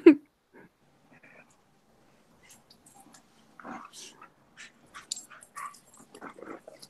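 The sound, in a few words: dog barking and whimpering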